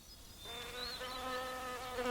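Steady insect buzzing from bees, a dense droning hum that grows fuller and holds at close range without pause.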